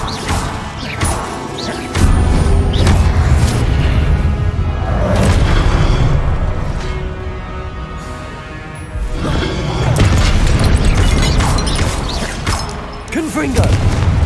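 The Confringo explosive spell in Hogwarts Legacy sets off loud crashing booms and smashing impacts one after another over a dense battle soundscape, and a voice calls out spell names.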